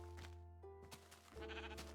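Sheep bleat in the Minecraft video game, two short wavering bleats close together, fairly clear and near, with no speech.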